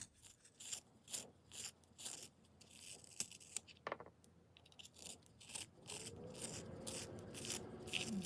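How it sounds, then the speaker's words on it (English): A wooden graphite sketching pencil is sharpened, giving soft, quiet rasping and scraping strokes in repeated short bursts, with a steadier grinding stretch toward the end and no talk. "you'll be able to see how well the wood and the graphite hold up to sharpening"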